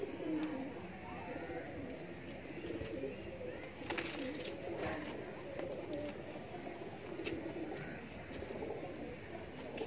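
Soft pigeon coos repeat under steady outdoor background noise, with faint chirps and a few louder bursts in the middle.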